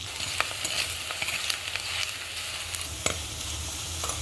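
Cumin seeds, curry leaves and garlic fry in oil in a pan, giving a constant bright sizzle with scattered light stirring taps and crackles, close and with no talking.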